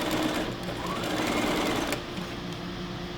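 Sewing machine stitching a cloth face mask, running steadily and close, a continuous motor whir with rapid needle chatter that eases slightly near the end; no talk.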